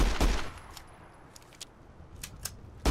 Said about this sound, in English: I have never heard a meatier sounding pistol in my life.